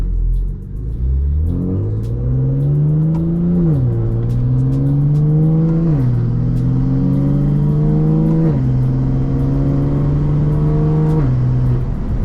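A BMW S55 engine with an equal-length exhaust and DCT gearbox revs hard and close, its pitch climbing through the gears with four distinct shifts, each dropping the note before it rises again, loud and alone.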